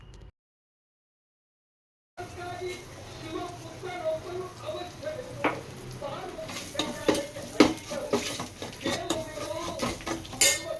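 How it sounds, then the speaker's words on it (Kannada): Ground spice powder fries and is stirred in a pan while cooking a Ugadi festival meal, with close scraping and clinking of a utensil against the pan over a faint sizzle, after a brief silent gap at the start. "ಅದನ್ನು ಕೂಡ ಇವಾಗ ಇದಕ್ಕೆ ಹಾಕ್ಕೊಂಡು ಅದನ್ನು ಸ್ವಲ್ಪ ಫ್ರೈ ಮಾಡ್ಕೊಳ್ತೀನಿ"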